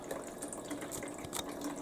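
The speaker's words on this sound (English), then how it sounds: "I heard the forcing of the water with the air." Water sputters and gushes from a freshly installed Frigidaire ULTRAWF refrigerator water filter cartridge, a faint, steady hissing flow mixed with air, with brief splashy spurts and no talking.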